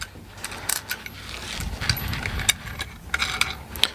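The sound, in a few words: tightening a bolt with a wrench on a 3D printer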